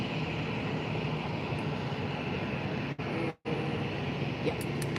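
A TUI airliner arriving from Manchester at Faro airport gives a steady, distant broadband engine roar that holds evenly throughout, briefly dipping near the end.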